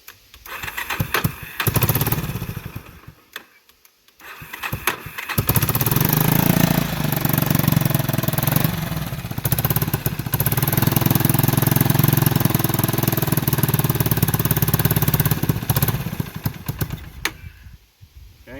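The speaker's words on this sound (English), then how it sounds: "Let's give her the old idle here and see what she says with the reserve on." A 1980s Yamaha Big Bear ATV that runs lean after a carburetor clean sputters, then settles into a loud, close, rough idle that holds steadily for over ten seconds before cutting out, with no talk.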